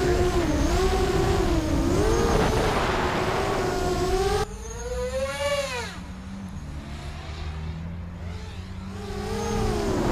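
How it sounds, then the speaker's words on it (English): Quadcopter drone motors driven by 20A Little Bee ESCs, a loud, whining tone that rises and falls in pitch as the throttle changes, shifting from near to farther away and flying outdoors in a breeze. "Those motors sound really nice"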